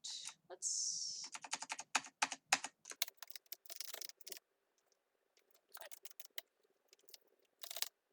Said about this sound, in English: Fun fact about my keyboard, it's janky.